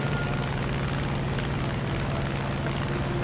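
A fighter plane engine in the War Thunder air battle game drones loud and steady, with a low rumbling hum and a hiss of rushing air. The plane is flying with a large hole from ramming a Spitfire.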